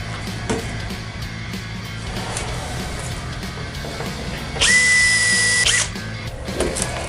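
A power drill whines steadily for about a second, loud and close, over a constant background hum with scattered clicks, drilling on a 1940s Craftsman lathe.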